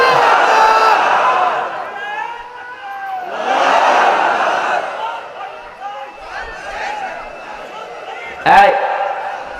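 Large crowd at a religious sermon roaring a takbir chant in repeated loud waves of massed voices, ending with a sharp burst of noise, with no distinct speech over it.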